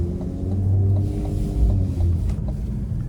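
Steady low rumble of a 2025 Cadillac CT5-V's twin-turbocharged V6 while driving, a continuous engine drone heard from inside the cabin with slight swells, no talking.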